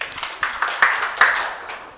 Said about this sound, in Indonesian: Boleh beri tepuk tangan dulu.